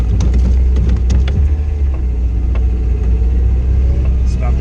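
Mazda Miata donor car in poor condition driving slowly around the block on a test drive, heard from inside as a steady low engine and road rumble with clicks and rattles throughout.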